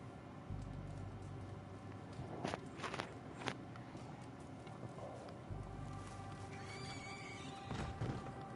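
Horse neighing and hooves in Red Dead Redemption 2, with a loud whinny near the middle and hoof footsteps over a steady game ambience.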